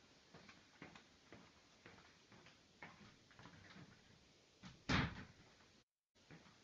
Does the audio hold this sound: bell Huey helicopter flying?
no